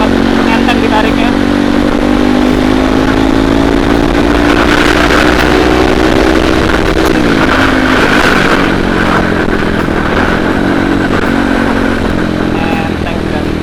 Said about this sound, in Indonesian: Menarik sekali motornya, enak banget, enteng ditariknya.